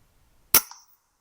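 A single sharp crack from a .22 air rifle fired at a grey squirrel, close and sudden, followed by a brief faint follow-up thud in otherwise quiet surroundings.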